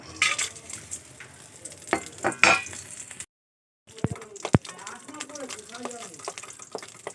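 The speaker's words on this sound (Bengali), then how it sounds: "এখন আমি আমন কুচি নিয়েছি কিশমিশ নিয়েছি কাজু নিয়েছি ঘিতে ভেজে নেব" Chopped almonds, raisins and cashews fry in ghee in a kadai, with bursts of crackling and clinking utensil strokes. A brief silent gap falls midway, then softer sizzling and stirring resume, under faint background voices.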